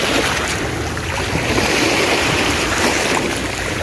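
Surf washes onto the beach shore at Bangay Bangay Beach in Salay, Misamis Oriental, a steady, loud, unbroken rush of sea waves mixed with wind buffeting the microphone.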